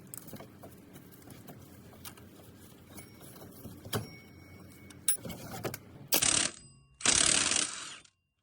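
Tensioner pulley coming off a Seat Ibiza 1.4 petrol engine during a timing belt job: soft metallic clinks and handling noises, then two loud, close bursts of harsh tool whirring near the end, with no talk.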